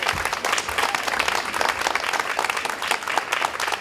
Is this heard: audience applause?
yes